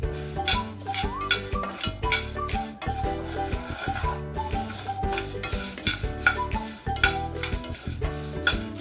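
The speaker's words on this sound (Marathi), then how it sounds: "साबुदाणे पण त्याच पद्धतीने आपल्याला भाजायचे आहे" Sago pearls dry-roast in a pan while a utensil stirs them, giving a light, continuous scraping and rattling clatter with faint sizzle, close by under steady background music.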